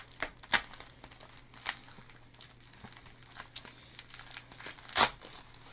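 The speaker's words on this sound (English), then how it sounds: "Bubble wrap." Bubble wrap is crinkled and rustled close by while a baseball card is unpacked from a mail package. Scattered crackles and small pops are broken by a few sharper crunches. No one talks.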